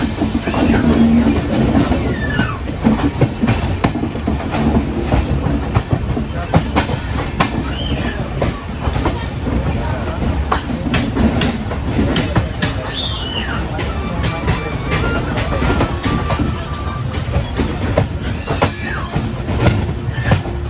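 Sleeper coach of a long-distance train from Hyderabad bound for New Delhi, rattling along the rails with a constant rumble and clickety-clack, under a background murmur of passengers chatting.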